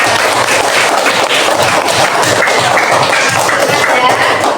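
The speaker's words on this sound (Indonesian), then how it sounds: "tepuk tangan untuk kita semuanya" Classroom group applause during a coding lesson, a steady dense patter of hand clapping from a room of people, loud and continuous without a break.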